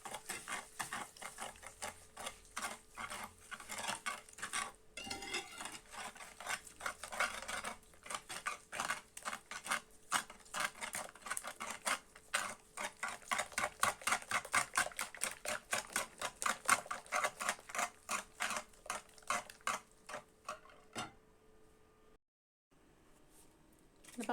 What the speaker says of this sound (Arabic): صافي غندير السكر سنيده وغنطرب مزيان تذوب هاد السنيده